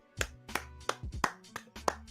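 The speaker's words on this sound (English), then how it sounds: "You get claps from me." A streamer claps hands six or seven times at close range, crisp sharp slaps spaced unevenly about a third of a second apart over a faint tonal background.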